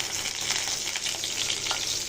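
Mustard seeds and urad dal frying in hot oil for a small amaranth greens stir-fry, a dense continuous sizzle with light crackles and stirring, close and steady, no talk.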